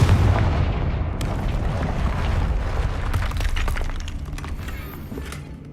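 Confringo blasting spell in the Hogwarts Legacy video game, a heavy booming explosion with shattering debris, loud at first and then rumbling and crackling as it slowly fades.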